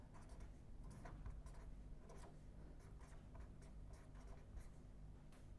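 Handwriting during a probability theory lecture, soft repeated scratching strokes over a steady low room hum, faint and close, with no talk.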